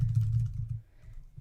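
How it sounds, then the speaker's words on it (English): Rapid typing on a computer keyboard while entering contact details, a brief close run of soft key clicks with a low hum underneath, trailing off near the end. "I'm going to go back in and type in my details again"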